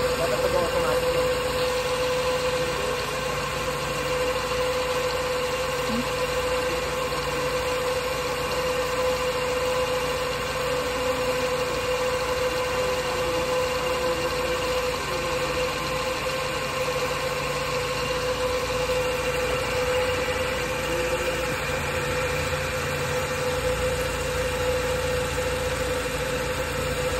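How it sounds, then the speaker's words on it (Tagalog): A Nissan GA13 car engine idles steadily while warming up, a constant mid-pitched hum with a faint knocking vibration that holds unchanged for the whole stretch. "Antayin lang natin na uminit yung makina."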